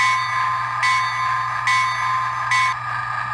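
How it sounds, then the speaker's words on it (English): An electronic Lionel Junction Dinosaur Diesel LionChief toy locomotive bell rings in three short, evenly spaced bursts over a steady background hum. There is no talking. "And we have our bell."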